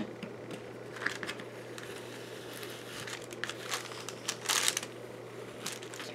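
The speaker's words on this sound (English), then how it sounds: "I'm going to carefully remove the blocked off areas, okay, of tape that I put down" Masking tape peeled off a journal page, heard as close, faint crinkling and tearing crackles in short irregular bursts over a low steady hum, no talk.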